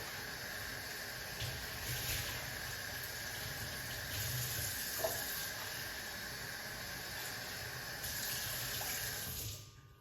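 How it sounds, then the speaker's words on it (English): Tap water runs steadily into a sink while rosemary is rinsed, a continuous close hissing splash that stops abruptly at the end. "let's wash off these rosemary"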